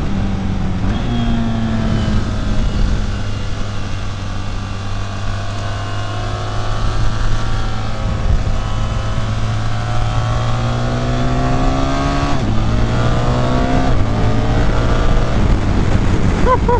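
A 2025 BMW R 1300 GS Adventure motorcycle engine pulls steadily and loud, its tone climbing and dropping through gear changes with a brief dip near the middle, constant and close throughout.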